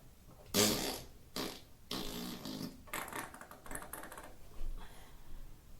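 A fart sound effect plays as a few loud, sputtering, raspy blasts with gaps between them, then trails off into softer rattling bursts, with no talking over it.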